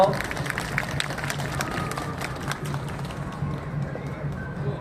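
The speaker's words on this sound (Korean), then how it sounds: "여러분 목사님께 박수 보내주십시오" A crowd at a church rally applauds a pastor with a dense patter of clapping that holds steady throughout, with voices mixed in.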